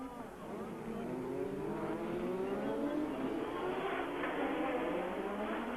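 Formula 1 race cars of the 1986 season screaming through Monaco's streets toward Mirabeau and the station hairpin, a continuous loud high-revving engine roar with shifting pitch as several cars pass close.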